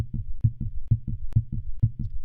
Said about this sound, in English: Why is my heart beating faster?